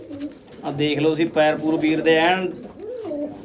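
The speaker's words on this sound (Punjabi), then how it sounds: "ਪਿਓਰ ਰਾਜਨ ਵਾਲੇ ਕਬੂਤਰ" Pure Rajan pigeons coo softly nearby in low, rounded calls, partly buried under someone speaking close to them.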